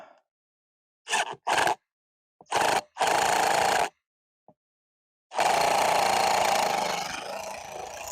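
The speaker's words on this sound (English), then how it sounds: "Start drilling." An electric drill whirs in several short bursts with silent pauses between, then runs in one longer continuous spin, close by, while building a squirrel feeder.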